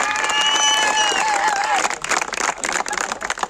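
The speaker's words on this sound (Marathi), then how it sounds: "एकदा जोरदार टाळ्या होत्या." Applause and cheering from a crowd at a night tournament, honouring the winner of a bike prize. The clapping is dense and steady near the start, then turns patchier and more broken toward the end, with voices mixed into the noise.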